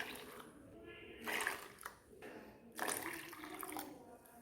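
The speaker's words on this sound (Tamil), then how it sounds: "இதுக்கு 4 கப் அளவுக்கு நம்ம தண்ணி சேர்த்துக்கலாம்." Water is poured over white sorghum for upma, giving two faint, short bursts of splashing pour separated by quieter pauses.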